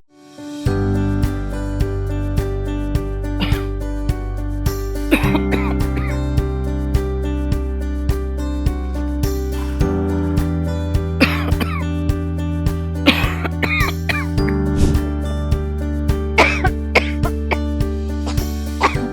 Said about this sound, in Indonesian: dia batuk juga sayang